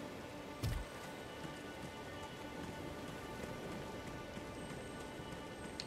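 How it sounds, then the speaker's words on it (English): Rain falls steadily in the video game Elden Ring, a quiet, even hiss of drops pattering on surfaces with one brief low thump near the start. "It's raining! There's actual weather!"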